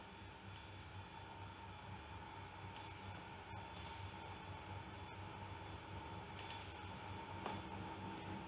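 Sparse, faint computer keyboard and mouse clicks come from someone editing at a desk, with isolated taps spread over a quiet background hiss.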